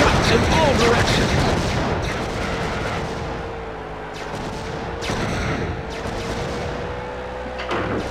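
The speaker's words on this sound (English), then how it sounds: "Stacy Keebler scattering shots in all directions." The Annihilator weapon in the vehicle combat game WWE Crush Hour fires scattering shots: loud, booming, continuous blasts with a sustained whining tone running through the game audio.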